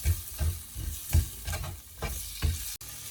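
Tomatoes and turmeric sauté in a pan for a Sri Lankan Jaffna-style spicy mutton curry, with a soft steady sizzle and a rhythmic series of scraping stirs, close and moderately quiet.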